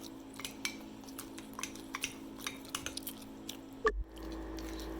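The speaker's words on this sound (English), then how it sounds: "Now everything is in the cup, and I'm going to stir it up completely" A spoon stirs carrot mug cake batter in a mug, with a run of light, rhythmic clinks and soft squishing taps close by, ending in a louder knock and a low hum.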